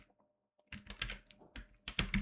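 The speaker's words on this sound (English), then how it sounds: "And now let's type git" Fingers tapping on a computer keyboard in quick irregular bursts, close and fairly loud, with short pauses between the clusters of keystrokes.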